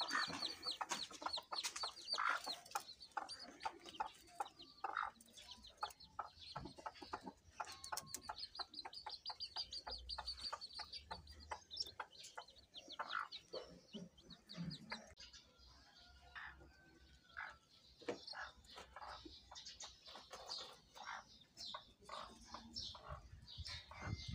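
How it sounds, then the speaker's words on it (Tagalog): Purebred labuyo (Philippine jungle fowl) chicks and their hen make many soft, rapid peeps and clucks, close by and continuous, scattered over a low rustling background. "nakita ko na yung mga sisiw nating labuyo"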